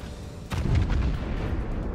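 Big naval guns firing on a Yamato battleship in World of Warships: a heavy boom hits early and then rolls out into a long rumbling tail. A second sharp report lands right at the end.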